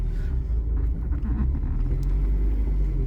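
A low, steady rumble of an old FSO Polonez 1.5 SLE rolling slowly, with a continuous engine-like drone and faint creaks, close by and fairly loud.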